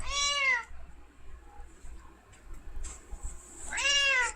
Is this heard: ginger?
no